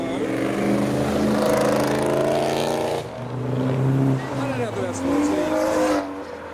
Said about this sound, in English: so just after these two, there's a Camaro.